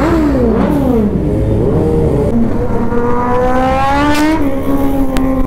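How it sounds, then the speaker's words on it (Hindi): Several superbikes with loud exhausts rev loudly in a large rally in Dehradun, engines rising and falling in pitch as they roar past in a close, continuous din. "पूरा शोर करती हुई जा रही है बाइक्स।"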